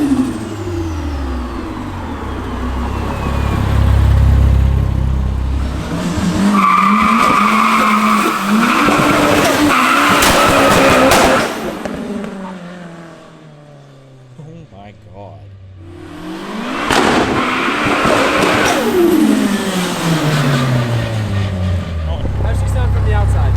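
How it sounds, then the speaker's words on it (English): A 600 hp Nissan S15 with a VVL SR22 turbo engine launches hard in a compound with loud tire squeal and skidding. Revs rise and fall, and turbo flutter follows each lift-off, repeated in two bursts with voices talking between them. "that's the craziest flutter I've ever heard from a car"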